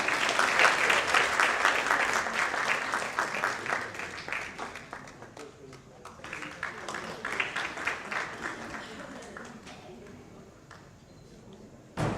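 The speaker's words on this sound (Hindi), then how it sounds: "जोरदार तालियां बजाते हैं।" Audience at a book launch and mushaira bursts into loud applause that gradually thins into lighter, scattered clapping, with a faint voice underneath near the end.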